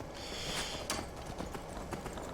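Rhythmic hoof clops from a horse in Skyrim trot along steadily at moderate volume, with a few sharper thuds and a faint game ambience beneath.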